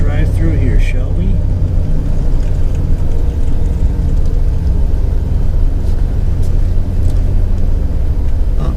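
An RV rolls slowly through a paved campground, its engine and tires making a steady, loud low rumble throughout, with someone talking briefly near the start.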